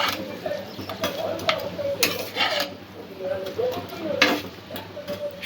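Spices, vegetables and bread pieces stirred together in a pan for bread pulao, with a utensil scraping and clinking against the metal in irregular strokes over a faint sizzle.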